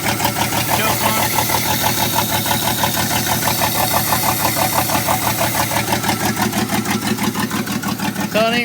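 A 1984 GMC S15 truck engine idles roughly after a cold start with the choke on, misfiring and not firing on all cylinders. The uneven, loping chug is loud and close and holds steady throughout.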